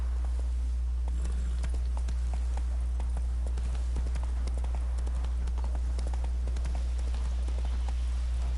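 Roach the horse trotting in The Witcher 3 on PS4, producing a steady run of light hoof clip-clops over a constant loud low drone.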